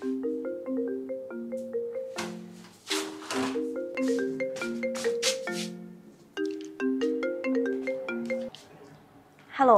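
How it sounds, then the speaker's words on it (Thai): A melodic phone ringtone plays loud and close, repeating its tinkling tune in several bursts with short gaps, while a voice briefly speaks over part of it. "เดี๋ยวพี่ไปรับโทรศัพท์แล้ว"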